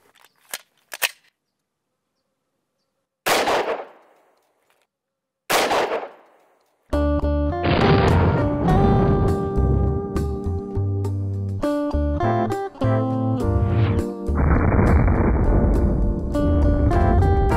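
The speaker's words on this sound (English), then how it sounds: "get another couple shots in here, and see if this can still expand when it passes through denim" Several 10mm Fiocchi pistol shots fired through denim into a test medium: a few sharp, loud isolated cracks with silence between, then a dense, sustained stretch of loud sound that carries on to the end.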